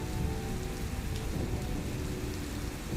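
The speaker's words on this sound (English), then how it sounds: "Thunder, lightning." Steady heavy rain pours on surfaces during a night storm, with low rumbling thunder rolling underneath throughout, a dense continuous wash with no voices.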